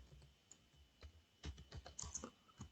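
Keys on a computer keyboard are typed in short, quiet bursts, a few isolated taps at first and then a quicker run of clicks, close and alone with no talking.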